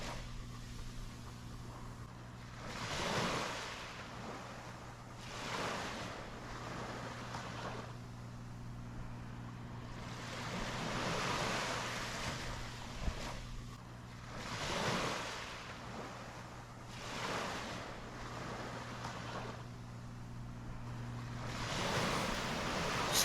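Sea water washes against a seaside house terrace in slow, repeated surges every few seconds, soft swells of splash and hiss over a steady low hum, with no voices.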